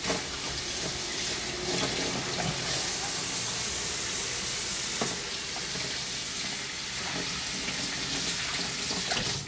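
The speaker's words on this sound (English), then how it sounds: "I'm gonna go wash my hands" A kitchen tap runs steadily into a sink during hand washing while cooking sweet and sour chicken, a continuous hiss of splashing water with a few faint knocks and clinks beneath it.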